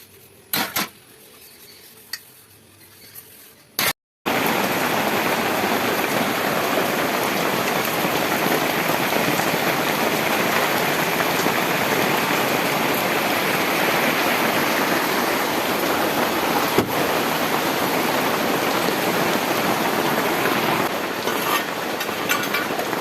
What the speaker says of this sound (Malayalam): അപ്പോൾ ഈ മഴയല്ലേ